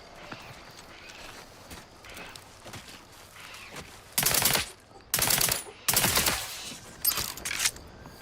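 A gun firing in The Outer Worlds 2 game: four loud, sharp bursts in the second half, each lasting about half a second, breaking through quieter ambient rustling and movement.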